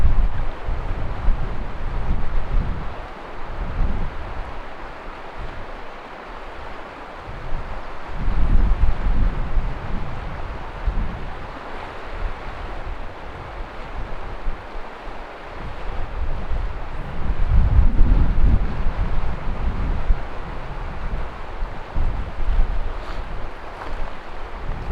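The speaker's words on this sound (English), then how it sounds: "The wind is killing me." Wind gusts roar across an open river during a fly fishing outing, a steady low rumble of buffeting microphone wind that swells and eases in waves, loud and continuous with no other clear sounds.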